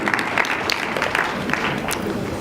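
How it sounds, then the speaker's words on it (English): Continuous applause from an audience at a junior high annual school day in Nairobi, honouring prize winners; steady, fairly loud clapping throughout with a faint crowd murmur. "I think we need to applaud all the prize winners"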